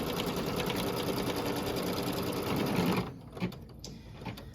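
An embroidery machine stitches a drawstring onto treat bags, running in a fast, steady mechanical whir for about three seconds before stopping, followed by a few faint clicks.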